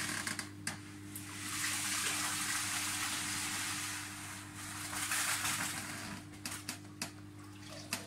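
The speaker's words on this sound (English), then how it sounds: "the last bucket of substrate's going in. It'll murk the water up" Substrate tipped from a bucket into a large aquarium tank, a sustained rushing, splashing pour of gravel into water lasting several seconds, close and fairly loud with a steady hum underneath and a few knocks near the end.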